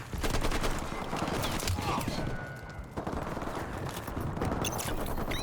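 Rapid gunfire bursts from Mass Effect 3 Legendary Edition, played as a Soldier on Insanity difficulty, crackle continuously and loudly through the whole stretch with dense overlapping shots and a short lull near the middle.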